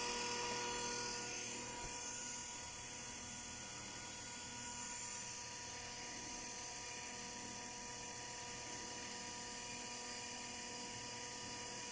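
A hybrid magnet motor drive segment runs with its load disconnected, giving off a steady, even mechanical whine with a bright, high-pitched edge that holds constant throughout.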